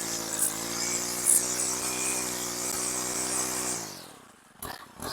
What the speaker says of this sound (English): Just hover the weed whacker above the grass and lightly touch the grass.